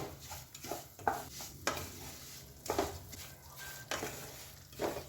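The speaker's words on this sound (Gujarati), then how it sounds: "રવો શેકતા ધીમો તાપ રાખવો બહુ જરૂરી છે, નહીંતર તરત જ એ બળી જાય છે" Semolina is roasted in a pan over low heat for pineapple halwa, with a quiet, close rhythm of scraping stirs roughly every second over a faint sizzle, with no talking.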